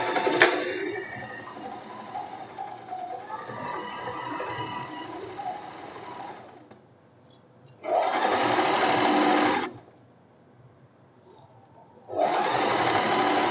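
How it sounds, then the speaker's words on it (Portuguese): A Singer home sewing machine stitches the side seams of a silk blouse, running steadily at first and then in two short, even bursts separated by quiet pauses, close and clear with no talk over it. "vamos passar agora aquelas laterais que eu falei com vocês já na máquina"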